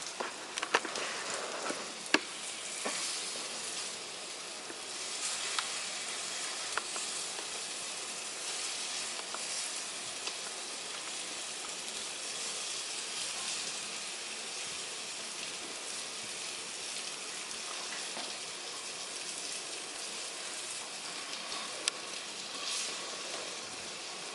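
Shrimp sizzle quietly in a hot pan for shrimp and grits, a soft, continuous hiss and patter with a few faint clicks throughout.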